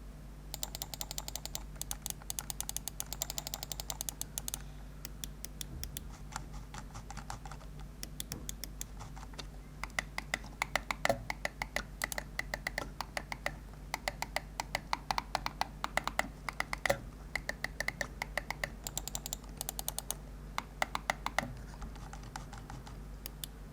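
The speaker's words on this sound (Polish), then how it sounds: "mamy w myszy zastosowane przełączniki Huano Blue Shell o żywotności 20 milionów kliknięć, a ich pracę możecie usłyszeć właśnie w tym momencie" Huano Blue Shell switches in a Savio Valiant gaming mouse, clicked over and over in rapid, crisp ticks, sometimes in fast bursts and sometimes spaced out, close and dry with no talking.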